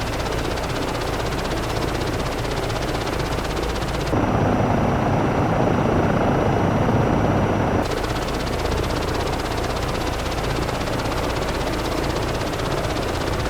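Simulated EC135 helicopter in MSFS hovering over a pad and settling in to land: a steady, loud rotor and turbine drone throughout, swelling into a denser, heavier roar for a few seconds in the middle before easing back.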